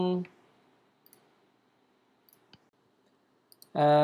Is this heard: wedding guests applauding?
no